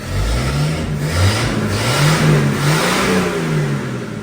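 A car engine with no muffler revs hard, its raw, loud exhaust note rising and falling in repeated surges, close by with no talking over it.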